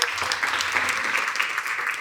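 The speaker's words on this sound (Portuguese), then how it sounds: "Palmas, gente." Steady applause fills a church congregation, dense clapping sustained evenly throughout at close range with no voices above it.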